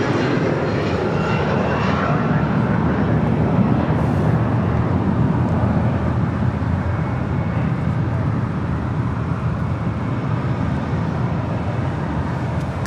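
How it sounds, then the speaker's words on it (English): A Southwest Airlines Boeing 737-700 arrives at LAX with a loud, steady broadband jet engine roar that holds unbroken throughout. "Southwest Airlines Flight 1604, the 737-700."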